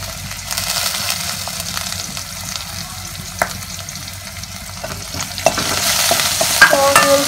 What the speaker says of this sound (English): So we will saute them till the onion turns light pink in color.